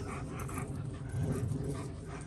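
A new German Shepherd puppy whimpers softly at home. Low, continuous whines and snuffling sit close by, with faint room noise underneath.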